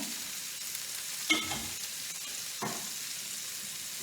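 Steak sizzles steadily in a hot pan, a constant close frying hiss with a couple of brief louder bursts as the meat is moved or stirred; no voices.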